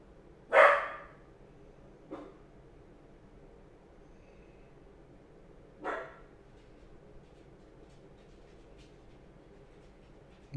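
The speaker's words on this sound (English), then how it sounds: "Sorry about the dog barking." A dog barks indoors in a few separate bursts, one loud bark, a softer yip, then another bark a few seconds later, against a quiet room hum.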